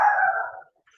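Dogs heard from a distance over a call give a single loud bark that trails off into a short howl-like tail, with no talk over it.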